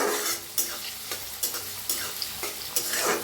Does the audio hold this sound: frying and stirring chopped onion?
yes